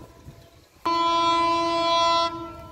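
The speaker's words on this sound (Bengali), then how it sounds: "ওই যে দেখা যাচ্ছে সুন্দরবন লং হুডে আসছে।" Sundarban Express with a long hood locomotive sounds one loud, steady horn blast of about one and a half seconds, cutting in sharply and then ending over quiet background rumble.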